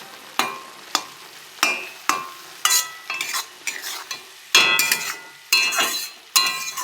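Vegetables with salt and turmeric are stirred in plenty of hot oil, a spoon scraping the pan in a steady series of about a dozen sharp strokes over a continuous sizzle, close and clear with no talk.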